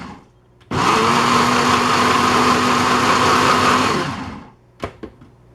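A Ninja blender blends plant material with its blade, starting abruptly into a loud, steady high-pitched whir that holds for about three seconds, then winds down, followed by a few faint clicks.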